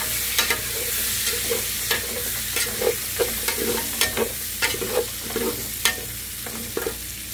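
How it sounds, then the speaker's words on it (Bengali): Cinnamon and cardamom fry in hot oil with a steady crackling sizzle, punctuated by regular clinks and scrapes of a stirring utensil against the pot; no voices. "এখন আমি এই যে দারচিনি, এলাচ, তারপর সব দিয়ে দিচ্ছি"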